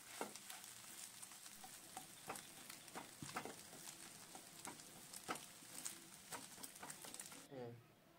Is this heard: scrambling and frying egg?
yes